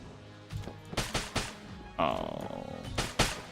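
Shotgun blasts in Enter The Gungeon, several quick punchy shots in irregular succession at moderate loudness, mixed with other game effects.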